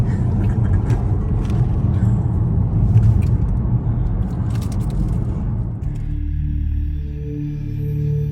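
A car drives along a road in the Scottish Lowlands, its engine and road rumble loud and steady, then the noise drops and thins toward the end.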